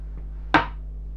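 A metal ring cutter pressing through rolled shortcrust pastry to cut a lid for a chicken pie, giving one short, near thud over a low steady hum, with no talking.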